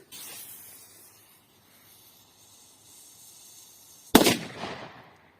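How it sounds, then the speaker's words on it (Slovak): A Dum Bum F3 firecracker goes off with one sharp, loud bang near the end, followed by a short crackling hiss and fading echo after a stretch of quiet outdoor background. "Ďalej tu máme petardu Dum Bum F3."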